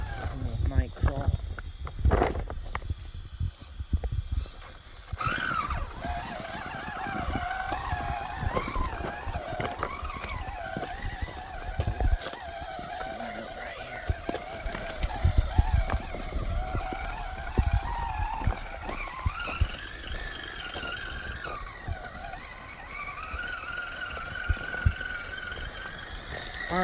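Traxxas Summit RC truck with a brushless motor conversion crawling at night: a whining, shifting motor drone that rises and falls with throttle, over scrabbling tire and gravel noise, close by, with occasional talk.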